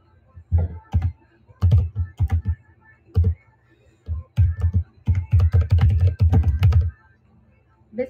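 A computer keyboard is typed on in bursts of quick, clattering keystrokes with short pauses between them, close and fairly loud during a live stream.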